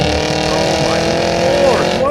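Cadillac Escalade V SUV roaring loudly under hard acceleration, a rising engine and exhaust note close by with a rasping overrun, while a person talks over it.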